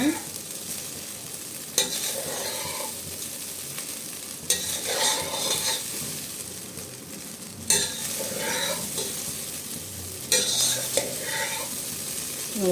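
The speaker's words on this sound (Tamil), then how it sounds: "பொறிச்சு வச்சுருக்க உருளைக்கிழங்கு அப்படியே சாதம் உடையாமல் பொறுமையாக அப்படியே பரட்டி போடுங்க" Fried potato and rice being stirred in a pan, a soft continuous scrape and gentle sizzle with a sharper clink of the spatula every few seconds, close and steady, with no talking.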